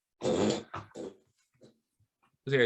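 A dog snorts and makes throaty hacking sounds, as if coughing up a hairball, in short close bursts separated by quiet gaps.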